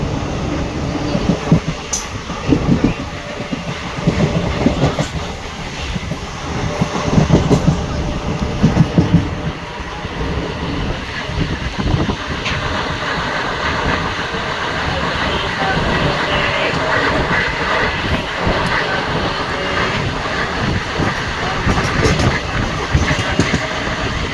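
Passenger train crossing the Penna river bridge between Kalluru and Pamidi, a loud steady rumble with rhythmic clickety-clack of wheels on the bridge rails, heard from on board.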